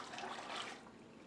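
Water pours and rushes steadily into a metal canner, a dense, even splashing flow close by with no talk.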